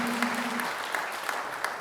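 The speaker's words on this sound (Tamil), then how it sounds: "ஒரு உற்சாகமான கைத்தட்டலோடு வாங்க." An audience at a Tamil New Year debate show claps enthusiastically, a dense, even wash of hands with a few sharper claps standing out, close and sustained.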